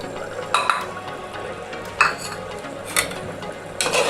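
Garam masala and cumin powder are stirred into a coconut milk mutton gravy, with a low simmering hiss broken by four sharp clinks and scrapes of a spoon against the pan, close up.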